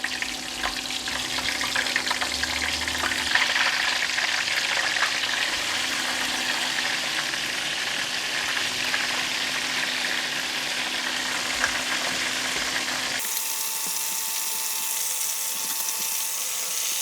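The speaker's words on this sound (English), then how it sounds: "When putting in the prawns in the pan, right, we need to put some garlic to let it stick on the prawns." Prawns coated in garlic fry in hot oil in a pan, giving a loud, steady, close sizzle that crackles evenly for about thirteen seconds before it cuts to a quieter background.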